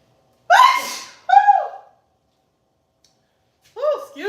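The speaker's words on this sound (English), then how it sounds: "I have to sneeze every time I use it." Several loud, close sneezes from a person cooking a Thanksgiving dinner and using a non-salty seasoning: two sharp bursts at the start, then a pause and a third sneeze that begins near the end.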